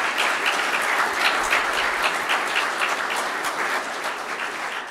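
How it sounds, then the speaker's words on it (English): An audience at a city's State of the City address claps in dense, sustained applause, steady and fairly close, continuing without a break. "I think this certainly deserves a round of applause to our council, our partners, and our staff"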